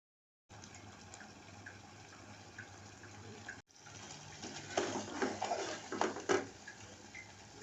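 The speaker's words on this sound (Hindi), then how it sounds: "पानी," Water poured into a cooking pot of colocasia root curry, a soft splashing trickle that briefly stops, then returns as a louder, gushing fill growing fuller toward the end, close by with no voices.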